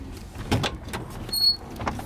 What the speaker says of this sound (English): So the back doors obviously open up.